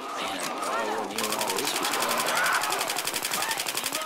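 Rapid automatic gunfire from a gun in Left 4 Dead 2 rattles in a fast, even burst over several seconds, with players talking over the shooting.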